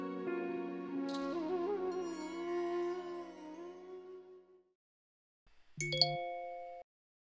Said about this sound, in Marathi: उमाचा मेसेज आणि असा अचानक